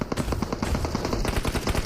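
Rapid automatic gunfire in the PUBG Mobile video game, a loud, dense burst of repeated shots that continues steadily for the whole moment with no pause.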